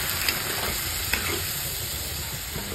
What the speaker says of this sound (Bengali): মশলাটা যাতে জ্বলে না যায়, হালকাটুকু জল দিয়ে একদম হালকাটুকু ভালো করে কষাতে হবে।